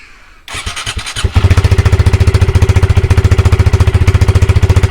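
A Honda Grom with an erratic idle cranks with a few rhythmic turns, then fires and settles into a loud, close, steady thumping run.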